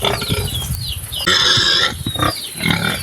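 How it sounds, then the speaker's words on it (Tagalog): A pet pig, a young gilt near breeding age, gives a series of rough grunts and snorts close to the listener, loud and irregular. "Ito na po ang aking alagang baboy dito mga kababayan."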